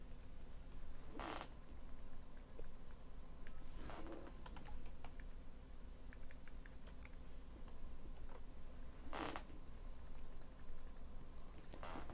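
Typing on a computer keyboard with a numpad held in the lap, steady close keystroke patter with a few louder, sharper key hits standing out against a constant background hum.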